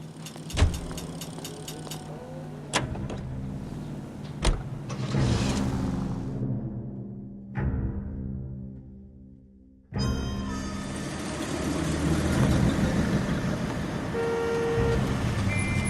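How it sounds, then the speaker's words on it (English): A 1940s-style car driven in the video game LA Noire, with clunks of the door and a starting engine followed by a steady rising motor hum, close and loud with no voices. "You're behind the wheel."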